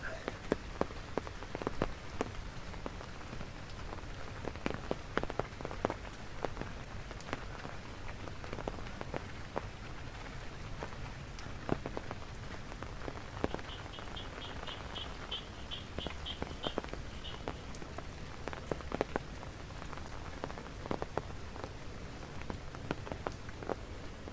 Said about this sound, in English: Well, it's raining, if you like the sound of rain.